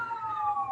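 Ambulance siren passing along 7th Street, a loud steady wailing tone held close by for the whole moment with a faint low rumble beneath it.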